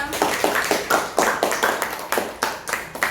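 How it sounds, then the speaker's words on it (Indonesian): Students applaud classmates Ayu and Akila in a high school class, a close, loud round of clapping in surging waves that keeps going without a break, with no talking over it. "Berikan aplaus untuk Ayu dan Akila."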